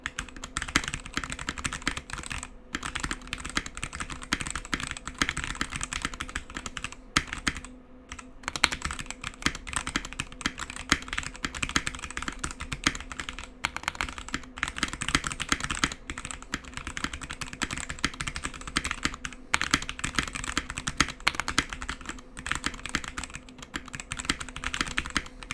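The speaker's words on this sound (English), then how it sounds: "this keyboard does feel great to type on, with one caveat, which is that it does feel a bit stiff." Steady, continuous typing on a MOJO68 keyboard with an off-white plastic case, close and clear, a dense run of clacky keystrokes with brief pauses and no voices.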